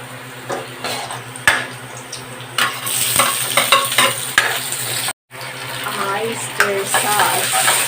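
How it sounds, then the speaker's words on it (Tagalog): Garlic sizzles in a pan for chopsuey, a steady frying hiss broken by clacks of a utensil stirring against the pan and scattered metallic scrapes. "Nilagay na ang bawang"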